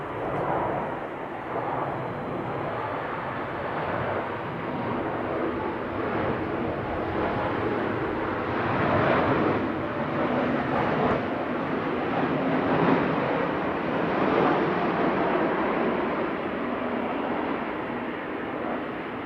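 A PIA Boeing 777-200ER jet departs Manchester Airport, its engines a steady broad roar held for the whole stretch, swelling slightly midway, heard at a distance with no voices.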